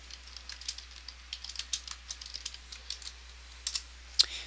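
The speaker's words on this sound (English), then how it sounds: "Just typing." Rapid, irregular keyboard typing, close and fairly quiet, with clustered keystrokes and a couple of sharper key presses near the end.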